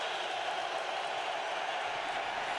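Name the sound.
stadium crowd cheering at football game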